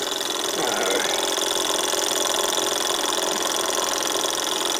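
A refurbished Davies Charlton hot air engine on a base with a ceramic burner runs steadily, giving a continuous mechanical whir with a faint rhythmic tick throughout.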